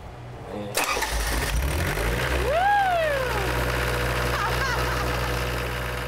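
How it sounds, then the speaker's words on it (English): A riverboat's generator engine cranks and catches, then settles into a steady, loud mid-pitched idle, close by, with a rising whine as it spins up and no talking over it. "I'm going to start that generator up for my engineer"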